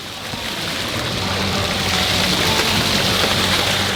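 Water splashes and sprays steadily at an outdoor splash pad by a hotel pool, a continuous broadband hiss that holds level for the whole stretch with no talk over it.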